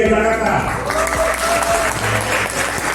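An audience at a PSI party regional coordination meeting and inauguration in South Jakarta applauds steadily and loudly throughout, a dense, sustained clapping with a voice faintly over it.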